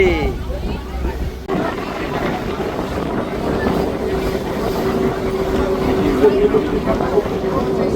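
A boat crossing the Arabian Sea toward the Elephanta Caves drones with a steady engine hum and wind buffeting, while voices and crowd chatter carry over it throughout.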